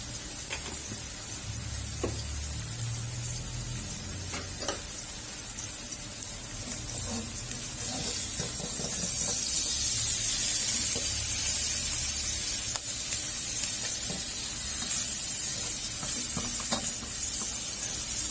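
Salted mackerel (pla tu) frying in a pan, a steady bright sizzle and spatter that swells louder partway through, with a few stirring knocks and no talk.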